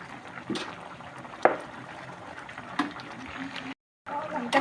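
Pork and morning glory curry simmering in a pot with kaffir lime leaves, a low steady bubbling and liquid murmur with a few clinks, cut by a brief gap near the end.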